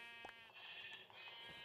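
A Minecraft sheep bleats in the game, a few quiet, nasal bleats over a steady electronic background hum with no talking.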